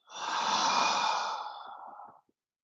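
One long, deep breath out during a vinyasa yoga flow, a loud, close, breathy exhale swelling then fading over about two seconds, alone without talk.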